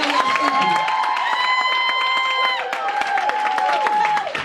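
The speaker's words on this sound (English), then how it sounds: "y'all clap a little harder than that" An audience at a business seminar claps for regional directors, steady applause mixed with loud cheering and whooping voices throughout.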